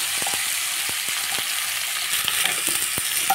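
Tomato pieces frying in a pan, a steady close hiss of sizzling oil with soft scraping stir taps scattered through it.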